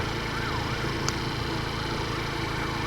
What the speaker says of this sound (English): Sirens going on.